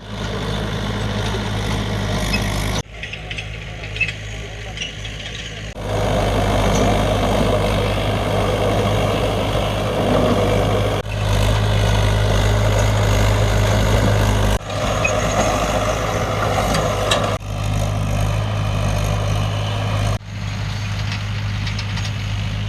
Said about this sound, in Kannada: ಇದೀಗ ಬೆಳೆದ ಚೆಂಡು ಹೂವು ಬೆಳೆಯನ್ನ ಅದನ್ನ ಟ್ರ್ಯಾಕ್ಟರ್ ಮೂಲಕ ರೋಟರಿ ಇಳಿಸಿ ಬೆಳೆ